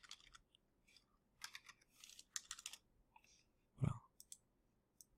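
Quiet, close bursts of typing on a computer keyboard, with irregular clusters of light key clicks and one heavier thump, separated by short pauses.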